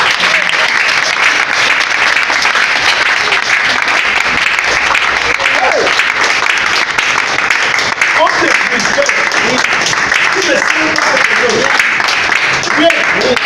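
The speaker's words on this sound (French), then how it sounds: "Il faut applaudir à Jésus" A church congregation applauds loudly and steadily throughout, with dense continuous clapping, scattered voices and cheering mixed into the crowd noise.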